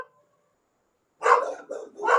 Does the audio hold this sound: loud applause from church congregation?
no